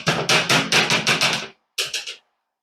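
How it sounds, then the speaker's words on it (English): A Dyson V8 dust collector is knocked against a garbage can in a run of about seven loud, close, evenly spaced hollow thuds, a short pause, then three more knocks, with no voices. "I'll tap it in the garbage can."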